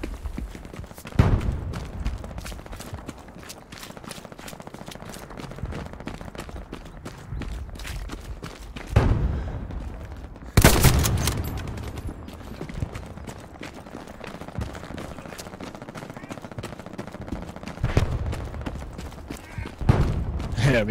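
Rifle gunfire in the Stalingrad warfare game Hell Let Loose, with Mosin and AT rifle in use: a handful of loud, sharp broadband shots spaced several seconds apart over a continuous battlefield rumble, with scattered clattering footsteps throughout.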